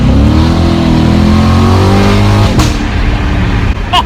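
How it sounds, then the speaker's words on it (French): A Chevrolet Corvette engine in track mode with its exhaust valves open revs loud and close, a deep sustained roar that climbs in pitch, then drops off sharply near the end. "On va la mettre en track mode, histoire d'ouvrir les valves. Les valves sont maintenant ouvertes."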